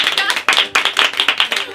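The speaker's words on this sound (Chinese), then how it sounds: "为什么这个要拍手的事情呢？" Hands clap in a quick, uneven rhythm, about a dozen sharp close claps in under two seconds, with voices chattering underneath.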